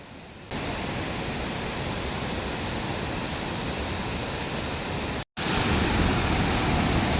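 Urulikkund waterfall near Irikkur in Kannur, Kerala roars in a loud, steady broadband rush that fills the scene without pause except for one brief dropout, with no voices present.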